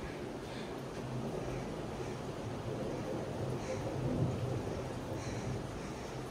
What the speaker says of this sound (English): it's raining out here right now